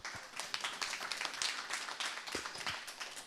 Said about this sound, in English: Everybody give Stuart a round of applause